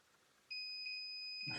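A REM pod ghost-hunting device in a haunted castle sounds its alarm, a steady high electronic tone switching on abruptly and holding, close and clear, with a brief rustle at the end.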